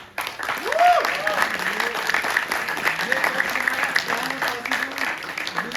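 Audience applause for a college theatre production's set design team fills the hall with sustained, dense clapping, while a voice speaks over it through a microphone.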